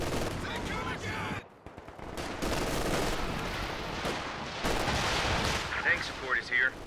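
A P-47 air strike in the World War II strategy game Company of Heroes 2, with dense, continuous gunfire and booming impacts piling up loudly, broken by a short lull before the barrage resumes.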